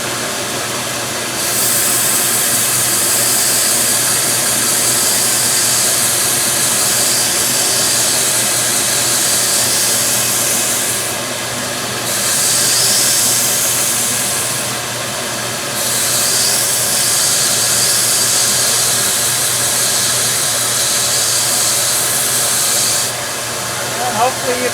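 An old German-made knife is ground on a powered sharpener, making a loud, steady high-pitched grinding hiss in long passes with brief pauses between them and a motor hum underneath.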